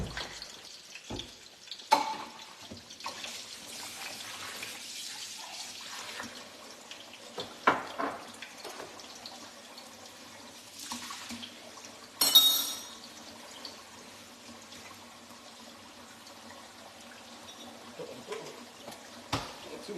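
Water runs from a kitchen tap while cornstarch and water are mixed for Spanish chicken and rice, a steady soft flow with clinks of glass and utensils and a brief louder splash midway.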